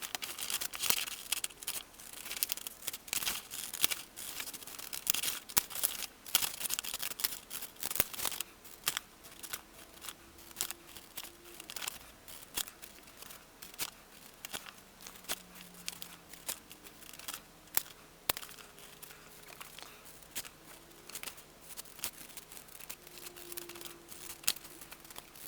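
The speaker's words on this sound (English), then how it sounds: "we need to cut this pattern out" Scissors cutting a paper pattern stuck with double-sided tape for a replacement cape for a vintage Teenage Mutant Ninja Turtles Splinter toy, a long run of quiet, steady snips and crisp paper rustles close by.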